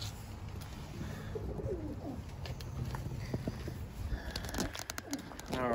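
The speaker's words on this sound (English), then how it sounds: "those raising pigeons are getting a little bit bigger" Young pigeons in a breeding setup coo softly amid faint rustling and background noise, with a few brief bird calls scattered through.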